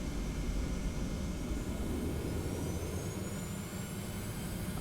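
Jet engines of a TFDI 717 in the Prepar3D flight simulator spool up as the throttle is advanced, giving a loud, continuous roar with a high whine that rises in pitch.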